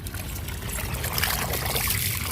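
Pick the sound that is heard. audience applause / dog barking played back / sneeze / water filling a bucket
water filling a bucket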